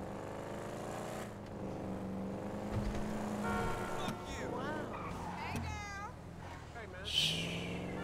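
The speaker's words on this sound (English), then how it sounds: "just the way this car sounds right now, bro, is mean" A car engine in Grand Theft Auto 5 revs and growls in fluctuating pitch sweeps, rising and falling as the car drives, with someone speaking excitedly over the game sound.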